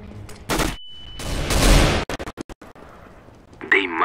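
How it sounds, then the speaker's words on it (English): A flashbang grenade goes off in the CSGO video game, with a sharp bang followed by a longer, loud burst, then a string of quick clipped noises and faint game sounds afterward. "Flashbang!"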